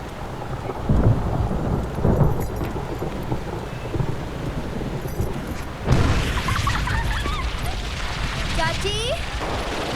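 Thunderstorm with heavy rain, a steady loud downpour hiss filling the background with rolling thunder rumbles and a sharp crack partway through, voices and other sounds faintly mixed in.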